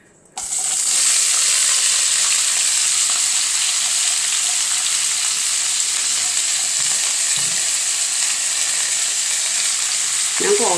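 Ivy gourd (kovakka) sizzles in hot oil in a pan after a faint start, a loud steady hiss that holds through the clip, with a brief clink near the end.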